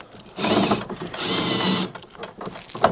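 A ratchet wrench rapidly clicks as it tightens bolts during a level switch and condensate pump replacement on a Phoenix DryMAX XL dehumidifier. It sounds loud and close, in two sustained bursts followed by shorter clicking.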